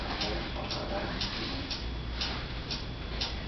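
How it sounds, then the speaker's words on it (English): A mysterious ticking repeats at a steady, even rhythm, roughly twice per second, clear over a constant background hiss. "What is that mysterious ticking noise?"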